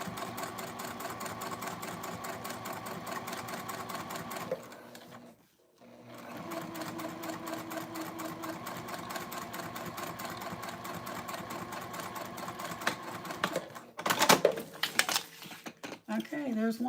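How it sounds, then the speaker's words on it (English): A sewing machine with a metal hinged zipper foot stitching faux leather for a circle bag, running in long steady bursts with a brief pause, then stopping as a voice speaks near the end. "I can sew most all my faux leathers with my metal hinge zipper foot"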